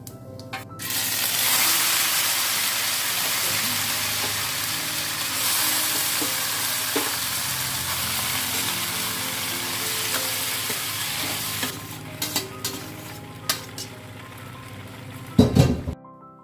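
Cumin seeds sizzle loudly in hot oil in a home kitchen, a steady crackling hiss lasting about eleven seconds that then fades into scattered clinks of utensils against the pan.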